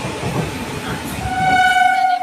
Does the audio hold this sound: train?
yes